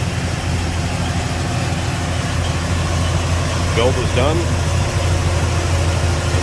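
A 1966 Buick Skylark with a stage 2 built 455 V8, Holley carb, MSD ignition, Hooker headers and Flowmaster exhaust idles with a steady, deep rumble, while someone talks over it.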